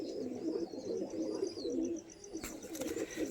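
A pigeon coos softly in repeated throaty rolls, close by and alone, with a brief rustle near the end.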